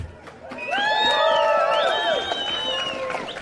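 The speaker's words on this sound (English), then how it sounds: "Big clap for Amir Epstein and Tafsik" An outdoor rally crowd in freezing weather claps and cheers, with loud, rising whoops and shouted voices over scattered hand claps. The sound swells after the first half-second and stays strong for about three seconds.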